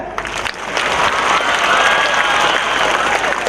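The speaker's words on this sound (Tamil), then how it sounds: "எனக்கு ஒரு கைதட்டு கொடுங்க" A school annual day crowd applauds steadily, a dense wash of many hands clapping that swells after a brief dip and holds loud and close.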